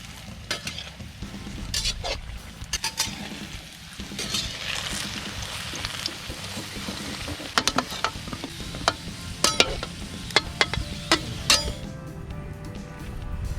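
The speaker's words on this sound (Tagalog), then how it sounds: "magprito muna tayo ng saging guys para maisahog natin mamaya sa ating puchero" Sliced bananas (saging) frying in a pan before going into a pochero with bangus, a steady sizzle broken by repeated clinks and scrapes of a utensil against the pan.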